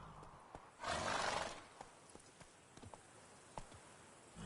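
A horse in a video game whinnies once in a short burst, followed by scattered hoof clops and light footfalls, fairly close and otherwise quiet.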